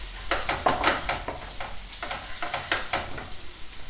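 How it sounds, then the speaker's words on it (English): A bay leaf stirred into a sizzling pan of vegan cooking, steady frying hiss with a rhythmic series of scraping stirs, close and clear. "Just stir that in."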